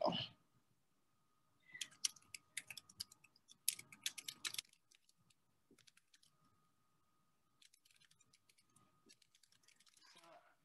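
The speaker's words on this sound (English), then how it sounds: "I'm trying to type it for you" Someone types on a computer keyboard in uneven bursts of quick, faint clicks with short pauses between runs, close and quiet against a near-silent background with occasional soft bumps.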